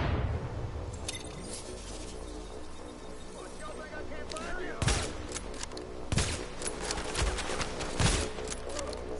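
Enemy gunfire in The Division video game crackles in repeated bursts over a dense, busy game soundscape of shots and impacts, moderately loud and continuous, while someone talks over it.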